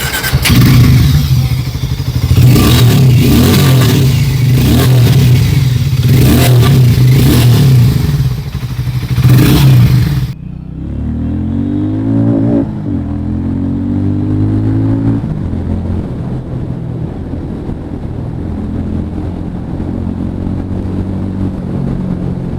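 A Hero Mavrick 440 motorcycle revs hard and loud for about ten seconds, the exhaust bursting in rapid throttle blips, then settles into a lower, steadier engine note as the bike pulls away and shifts through gears.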